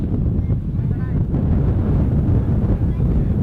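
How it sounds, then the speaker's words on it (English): Strong, steady wind buffets the microphone outdoors at Amsterdam Schiphol airport, a constant loud low rumble and roar that never lets up. "it is incredibly windy here"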